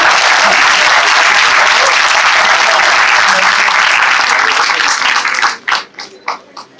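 An audience at a motivational talk gives a loud, sustained burst of applause that fills the room, then thins to a few scattered final claps before it stops.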